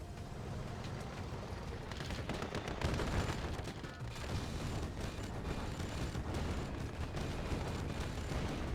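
Red Alert 2 battle with Grizzly tanks bursting apart amid constant gunfire. The dense crackle and booms run unbroken at moderate volume, with no speech over them.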